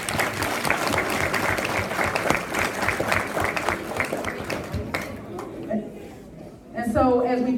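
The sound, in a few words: students' round of applause at school event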